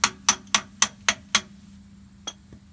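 Six sharp metallic taps in a quick, even series, a wrench striking the back of a screwdriver on a Dodge Ram 1500 rear differential cover to break the seal, followed by one lighter tap after a pause.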